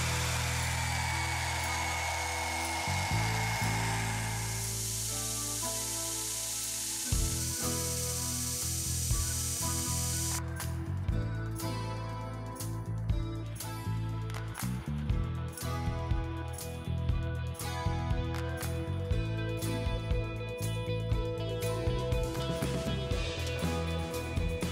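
A power tool cutting the lock side frame of a titanium framelock folding knife, first a steady whining grind, then a long stretch of rapid, loud, uneven cutting chatter close by, with no talking.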